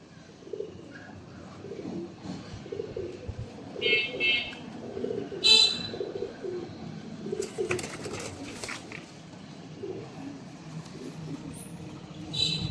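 Pigeons for sale coo in soft, low repeated phrases, fairly faint and close, with a few sharp bird chirps and light clatter breaking in now and then, and no talking.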